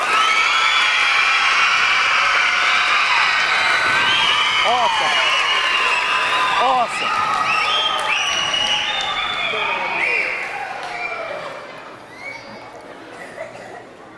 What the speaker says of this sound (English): give them a round of applause, scream, yell, stomp